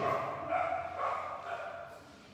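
Dogs barking in a quick series of loud, close barks, roughly three bursts spread over a couple of seconds with a faint whimpering edge.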